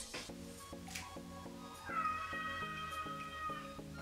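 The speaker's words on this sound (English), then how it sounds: "Why is my cat crying?" A house cat meows repeatedly in a steady rhythm of about eight cries, then lets out a higher, more drawn-out wail near the end. The cat is close and loud, with no talk over it.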